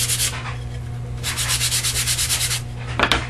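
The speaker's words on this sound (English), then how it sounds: "I'm going to sand off the rough edges that were created by this process" Drilled kaleidoscope pieces being sanded by hand to take off rough edges, a steady run of close, rasping rubbing strokes with a short pause before a second rhythmic burst, no talking.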